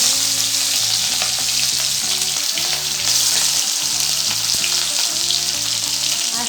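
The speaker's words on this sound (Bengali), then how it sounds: "তেলটা গরম হয়ে গেছে, এবার আমি মাছগুলো একটু ভেজে নেব।" Fish fries in hot mustard oil in a pan, giving a loud, continuous, close sizzle, with a soft rhythmic musical backing underneath.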